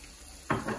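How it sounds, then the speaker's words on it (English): Brussels sprouts fried rice with soy sauce sizzling and being stirred in a pan, heard as a brief close burst of frying and scraping that starts halfway through after a quiet moment. "We want to hear the sizzle of everything getting stirred up."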